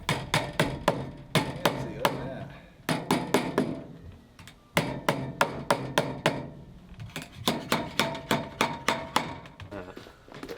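Rapid hammer strikes driving ring shank nails in quick bursts, sharp and ringing, close by, with brief pauses between runs of blows.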